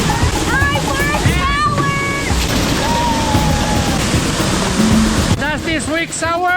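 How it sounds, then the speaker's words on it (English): A waterfall in the southern Pantanal, Brazil, rushes with a constant broadband roar; people's voices and bright whoops sound over it. "It's another day and another waterfall."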